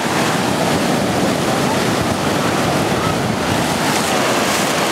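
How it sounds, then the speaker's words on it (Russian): Sea waves on a Sicilian shore roar as a constant loud wash of surf, with wind rumbling against the microphone throughout and no voices. "Ну а волны тоже оттуда же."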